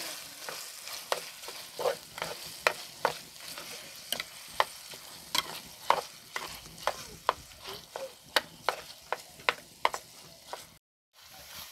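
Seasoned ground beef with salt and ground pepper, cooking as empanada filling, is stirred in a pan: a steady run of sharp utensil scrapes over a soft, continuous sizzle, close and fairly quiet, with no voices.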